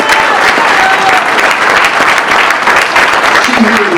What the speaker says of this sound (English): With a round of applause while they stand up as being mentioned.